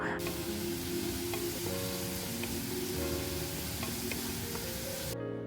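Ginger garlic paste with ground turmeric, cumin, coriander and chilli powder frying in a pan, giving a steady, close sizzle that runs unbroken for several seconds before cutting off.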